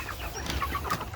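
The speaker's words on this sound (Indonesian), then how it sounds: "Terlihat sejauh ini ayam masih semangat makan dari pakan yang kita siapkan" Free-range village chickens feeding on fermented corn mash in an avocado orchard give a few short, soft clucks close by over low background noise.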